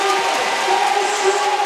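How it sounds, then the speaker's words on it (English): A basketball arena crowd at a TPBL Finals game between the New Taipei Kings and Formosa Dreamers gives an ovation, a loud, steady roar of cheering and applause that fills the whole moment without a break. "Gilbeck is going to get a well-deserved huge ovation from the crowd here"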